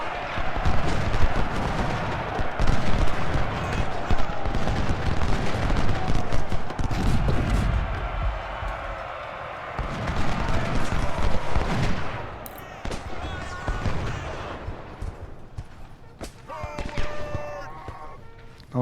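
Civil War battle in Ultimate General: Civil War, with loud, continuous rolling musket volleys, crackling gunfire and heavy artillery booms that surge and ebb, with a voice talking over the din.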